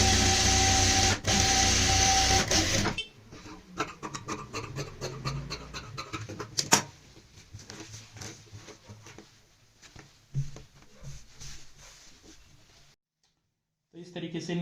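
Sewing machine stitching salwar fabric with a half-inch seam allowance, a quick run of light mechanical clatter after a louder opening stretch, with intermittent pauses and a short burst near the end.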